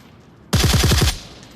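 A rapid automatic burst of about six gunshots rings out from a weapon in the VR shooter Onward, loud and close, then cuts off sharply into a short fading tail.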